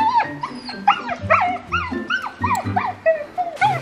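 Several dogs bark, yip and whimper in a repeated, excited pattern close by, as if straining to set off on a training run, with brief faint voices in the background.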